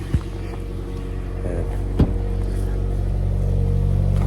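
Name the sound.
car engine running while warming up in freezing cold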